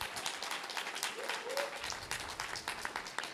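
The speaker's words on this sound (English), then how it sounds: "If everyone could give these candidates a round of applause" A room of people applauds candidates at a mayoral debate, a dense patter of many hands clapping at once, steady and moderately distant.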